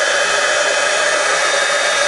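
A heat embossing tool blows hot air steadily over a craft metal sheet, a loud, constant whooshing hiss with no breaks and no talking.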